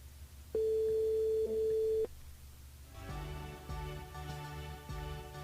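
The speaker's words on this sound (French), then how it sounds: "Allez, on appelle Camille, du côté de Saint-Denis" A steady telephone line tone sounds clearly for about a second and a half while a radio host calls a listener on air, followed by quieter music-like studio background.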